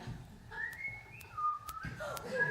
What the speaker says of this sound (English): Please stop whistling!